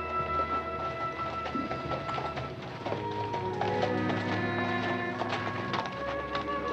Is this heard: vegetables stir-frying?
no